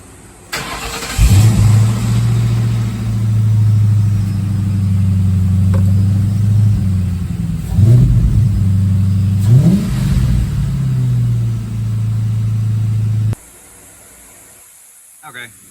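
Ford F100 pickup engine running loud and close, rising in several revs over a steady idle before cutting off abruptly.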